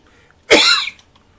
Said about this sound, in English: You ever cough so bad your eyes actually like pulsate, the vision changes?